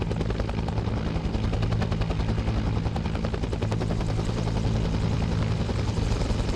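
Constant loud thumping of helicopter rotor blades with rapid bursts of gunfire mixed in, from the video game Arma 3, unbroken throughout.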